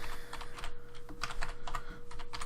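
Rapid, uneven keystrokes on a computer keyboard while typing out SQL insert statements, with clicks in quick bursts and brief pauses, close and moderately quiet over a steady low hum.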